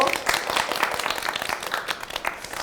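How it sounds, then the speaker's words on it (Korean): Studio audience on a broadcast show giving a short burst of applause, brisk clapping that stays fairly quiet and continues steadily throughout. "박수 한번 주세요"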